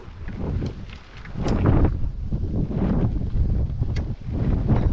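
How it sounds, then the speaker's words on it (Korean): Strong wind roars and buffets against the microphone in uneven gusts, with no voices, on a pine-lined mountain bike singletrack in Daesan, South Chungcheong, Korea. "아 바람 참 많이 분다. 아 바람 소리 좋네요."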